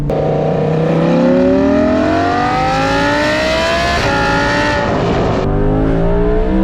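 Loud, close revving of an Audi R8 V10 Plus with a Valvetronic exhaust and no rear bumper, climbing and falling in pitch, with sharp exhaust crackles near the end.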